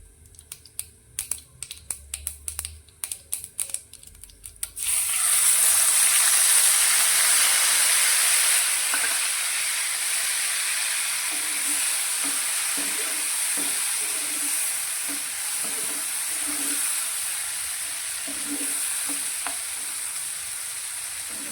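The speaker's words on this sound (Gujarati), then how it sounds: "મેં એક મોટા ટામેટાને આ રીતે ઝીણું કટ કરીને લીધું છે તે આપણે તેલની અંદર લઈ લઈશું" Finely chopped large tomato dropped into hot oil already tempered with mustard seeds, cumin and hing, after a few seconds of clicks and crackles, bursting into a loud, steady sizzle and hiss that gradually settles, close up with no talking.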